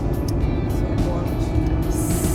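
Steady road rumble from inside a moving car on an overlanding trip through a small Colorado town, a constant low drone with faint rushing noise throughout.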